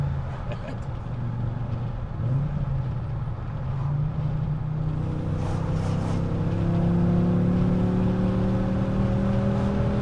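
A car's engine runs steadily and then revs up, its rising harmonic tones climbing near and loud while people talk over it.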